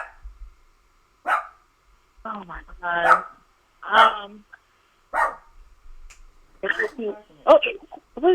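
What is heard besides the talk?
dog barking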